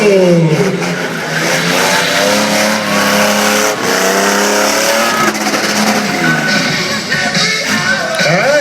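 A loud, high-pitched motorcycle engine screams as it revs up and climbs through gears on a slick race track at Ilha Solteira Moto Fest 2012, sustained and close, with pitch sweeping upward repeatedly.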